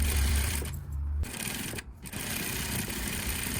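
Sewing machine stitching a dress sleeve with light gathering, a steady close mechanical whir running throughout, briefly easing and dipping twice before resuming, with no talking.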